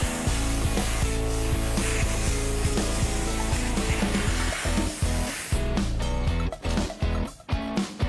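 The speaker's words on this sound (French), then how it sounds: "Il souffle la limaille de fer avant d'essayer l'éclairage de la plaque minéralogique." Compressed air blows iron filings off the bodywork of a classic Mini under restoration, a steady loud hissing rush that runs for several seconds before breaking into short, choppy bursts.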